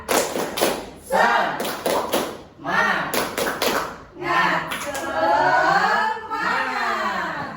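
A class of children in an Indonesian classroom claps out a quick rhythmic pattern, sharp bursts of clapping alternating with shouted chanting voices, loud and close.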